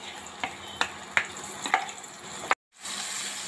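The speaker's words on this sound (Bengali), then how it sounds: "এগুলো আমি একসঙ্গে মিশিয়ে নিব। মিশিয়ে তেলের ভিতরে দিয়ে দিব।" A mixed paste of chili, coriander and turmeric powder fries in oil, with a soft sizzle under several sharp spatula knocks, then a brief silence before a louder, steadier sizzle.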